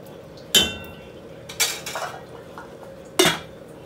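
Metal clanks sharply as a lid is set onto a cooking pot of soya chunk gravy, with three distinct clinks and a couple of lighter rattles spread over a few seconds in a quiet kitchen.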